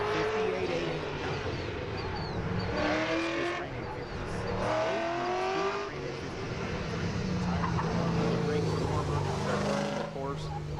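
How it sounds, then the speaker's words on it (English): A Ford Fox Body LX notchback Mustang in red oxide races up a mountain hillclimb course, its engine revving and shifting through a steady roar beneath ongoing live commentary. "that quick little notchback Fox Body LX Mustang getting ready to come up"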